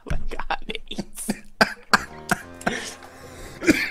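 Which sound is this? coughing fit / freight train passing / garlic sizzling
coughing fit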